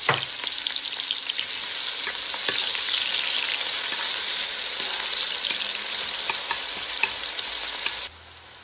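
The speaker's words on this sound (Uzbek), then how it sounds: "Yog'imiz qizidi, endi piyozimizni solamiz." Onions sizzling hard in hot oil inside a cauldron, a loud steady crackle with scattered pops running for about eight seconds before cutting off abruptly.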